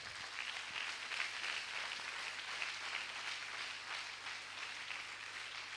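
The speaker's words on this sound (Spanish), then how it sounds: "denle un fuerte aplauso al Señor" Steady congregational applause fills a church service after a sermon passage, a dense continuous wash of many hands clapping at moderate, fairly distant volume without talk.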